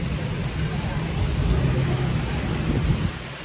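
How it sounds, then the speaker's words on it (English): Heavy rain pouring down in New Orleans, a loud, steady wash of rainfall on surfaces with a low rumble underneath, fading slightly at the end. "evidently here in New Orleans, it rains a lot."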